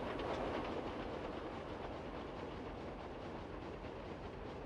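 A very long freight train with boxcars in Roblox rolls steadily along the track, a dense continuous rumble with faint rhythmic clatter of wheels, loud and unbroken throughout.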